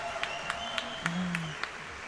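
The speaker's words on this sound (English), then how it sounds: "The crowd keeps cheering for Mongols." Fans at a Nomadic Masters esports match cheer for The MongolZ with steady rhythmic clapping, evenly spaced claps about four a second, heard from a distance under a voice briefly speaking.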